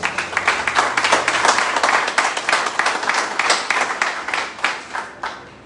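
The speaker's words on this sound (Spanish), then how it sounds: "Den un fuerte aplauso al Señor." A church congregation claps loudly and continuously, many hands in a dense, slightly rhythmic burst that holds strong for several seconds and then thins out toward the end.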